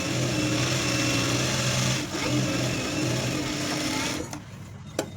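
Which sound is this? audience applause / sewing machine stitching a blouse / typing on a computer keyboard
sewing machine stitching a blouse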